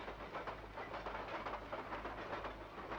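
A moving train rolls along with a steady rumble and faint rhythmic clatter of wheels, heard from inside a railway carriage at low level, with no voices.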